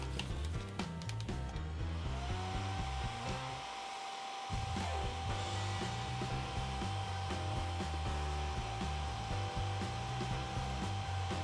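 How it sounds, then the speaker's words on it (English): Hair dryer heating a plastic doll's hat, blowing steadily with a whirring motor and a high whine, briefly muffled partway through, then resuming at full strength. "Now I'm going to warm up her hat with a hair dryer"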